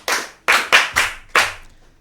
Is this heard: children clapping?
yes